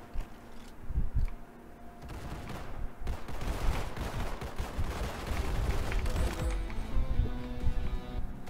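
Dual shotguns blasting in Roblox, a loud, busy stretch of heavy gunfire with repeated booming shots and overlapping bursts from up close, no talking over it.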